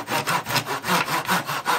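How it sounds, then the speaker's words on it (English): A saw cuts through a piece of material in rhythmic back-and-forth strokes, about seven close, raspy passes in quick succession with no voices. "So as I'm cutting along, as you can see, the piece of material is going."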